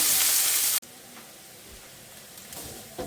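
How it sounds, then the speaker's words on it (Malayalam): Onions sautéing in a pan on the stove, a steady soft sizzle and hiss that starts loud, drops suddenly after a moment, then continues at a lower level with faint stirring clicks. "അപ്പോൾ ഇത് ഉള്ളി വഴഞ്ഞോണ്ടിരിക്കുക."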